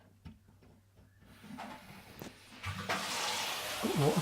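A tap on a laundry panel starts running once the cold water supply is turned back on: faint clicks and knocks first, then a rising steady hiss and splash of flowing water that builds to a continuous stream.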